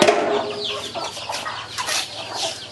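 Chickens cluck and chatter in a farmyard, a run of short bursts close by, with a child encouraged to dance for them.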